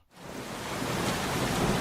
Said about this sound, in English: I heard the heaviest rain pelt the building